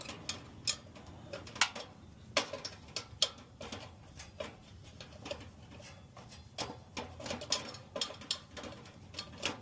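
A long wrench ratchets against a grinding home furnace with broken welds, giving sharp, irregular metallic clicks and taps in quick bursts at close range over a low mechanical rumble.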